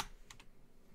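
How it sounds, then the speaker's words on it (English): Computer keyboard typing during PC gameplay: a quick burst of a few sharp key clicks, close and fairly quiet, with a brief pause before another click at the end, no voices. "apologies for the keyboard audio"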